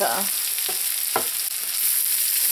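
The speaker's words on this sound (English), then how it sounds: "I'm just going to saute this until the onion and the carrots are tender." Onion, grated carrots and grated garlic sauteing in a pan give a steady, loud sizzle with a few soft spoon scrapes as the vegetables are stirred.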